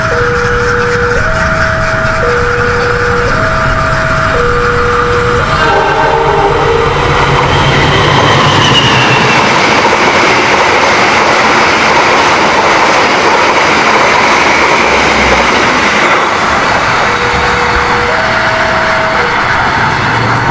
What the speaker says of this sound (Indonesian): Argo Wilis nomor KA6 dari Bandung tujuan akhir Surabaya Gubeng akan melintas di CPL 115 Dusun Sukorejo.